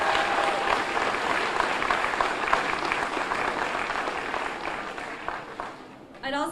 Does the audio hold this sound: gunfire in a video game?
no